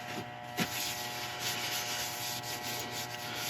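Hampshire sheen wax being buffed into a turned wood piece spinning on a lathe, a soft continuous friction hiss at low level with a faint steady motor hum beneath.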